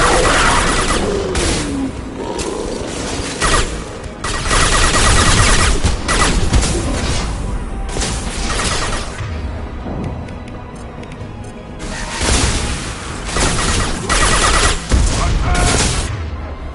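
Dense automatic and burst gunfire from a Mass Effect firefight, loud and near, with heavy booms and rapid volleys continuing almost without pause, easing briefly before intensifying again near the end.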